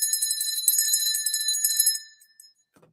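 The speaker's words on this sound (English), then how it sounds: "Can you hear the bell?" A bright metallic bell rings steadily for about two seconds with sustained high tones, then cuts off into near silence with a few faint clicks at the end.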